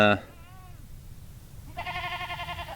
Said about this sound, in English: sorry about the goats.